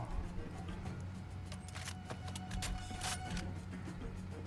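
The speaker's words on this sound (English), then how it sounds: "Sounded like a car just pulled up." A car pulls up in the Far Cry 2 video game, heard as a low, steady engine rumble beneath dense, noisy game ambience, with no voices.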